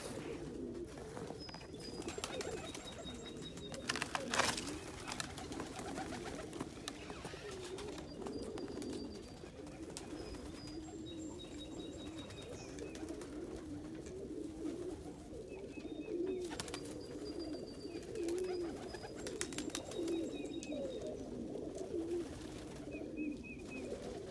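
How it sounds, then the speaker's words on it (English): Roller pigeons coo in a loft: soft, low, repeated cooing from several birds, with higher chirps and a few sharp knocks scattered over the steady background. "It's a beautiful Opal Lake roller hen over there."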